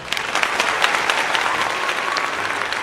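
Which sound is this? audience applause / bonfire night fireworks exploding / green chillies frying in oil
audience applause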